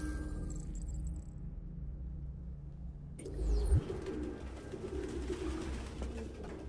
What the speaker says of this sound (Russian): Человек не стал бы терпеть голубей.